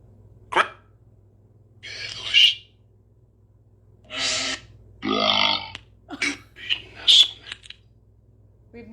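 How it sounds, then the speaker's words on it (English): Several gruff, drawn-out belches burst out one after another, loud and near, against a steady low hum, with brief voiced bits of speech mixed in between. "We've never had a belch come through."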